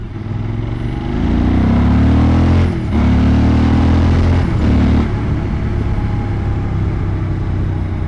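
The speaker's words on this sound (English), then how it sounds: "a system that can pick up a good sound of your motorcycle exhaust" A motorcycle's exhaust roars close by, revving up in a deep, throaty drone with a couple of gear-shift dips before settling to a rumbling idle.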